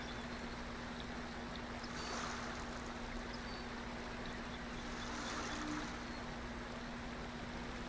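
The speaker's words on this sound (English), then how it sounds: "And that water is loud." Loud flowing water in the Way of the Hunter video game, a steady broadband rushing wash with gentle swells, alone and continuous under a faint constant hum.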